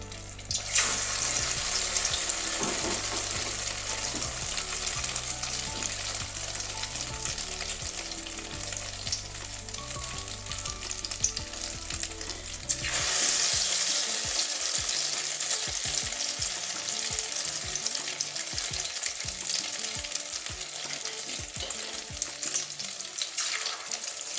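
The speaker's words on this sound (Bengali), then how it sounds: "এভাবে প্রত্যেকটা ডিমগুলো এভাবে ডিমের মধ্যে চুবিয়ে এভাবে ভাজা করে নেবো" Egg-dipped cauliflower fritters frying in oil over medium heat, a loud, steady sizzle and crackle close by, joined partway through by rhythmic scraping and tapping of a spatula.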